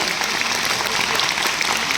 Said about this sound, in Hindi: जोरदार तालियां आप सभी के लिए